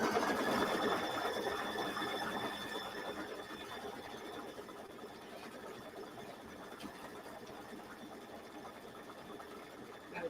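An embroidery machine stitches an applique snowflake onto a mini quilt, a steady fast mechanical whirr and rattle that eases slightly partway through, with faint voice in the background.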